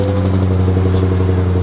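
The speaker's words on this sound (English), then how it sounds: "definitely gonna have to put some work into the exhaust, though. That stock sound ain't crazy." Stock exhaust of a Dodge Hellcat SRT idling close by, a steady deep rumble with a low throbbing drone that holds even throughout.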